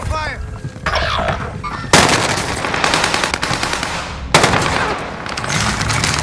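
Gunfire in the video game Call of Duty Warzone: loud sustained automatic bursts begin abruptly, pause briefly, then resume, dense rapid shots filling the space, with players talking underneath.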